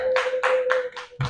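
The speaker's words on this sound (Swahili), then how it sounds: "Kama unaamini, mpigie Bwana Yesu makofi" A church congregation claps for Jesus during a sermon: five loud, evenly spaced bursts of handclaps over a steady sustained tone, with a low thump at the end.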